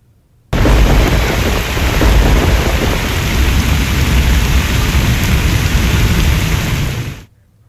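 Heavy rain in Gujarat pours in a dense, loud, unbroken roar, with deep rumbling like thunder mixed in, lasting several seconds before it cuts off.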